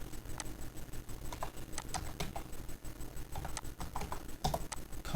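Keys clatter as router commands are typed on a computer keyboard, irregular bursts of crisp clicks close to the mic, quiet overall with short pauses between strokes.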